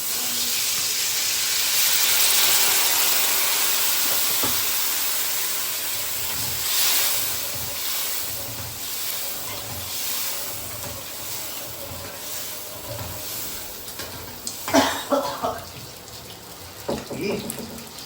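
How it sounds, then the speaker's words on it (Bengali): Water poured into a pan of shol fish curry with potatoes, a steady hissing, splashing pour up close that fades out, followed by some faint clinks and stirring sounds. "এখন দেখো আমি জল দিয়ে দিচ্ছি।"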